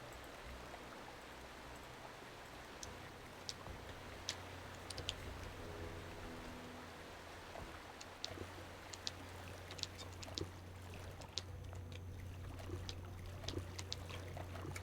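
Steady flowing water near a lake in the fantasy role-playing video game Wizardry 8, a continuous soft trickling wash with occasional small ticks and drips, running evenly throughout with no talk.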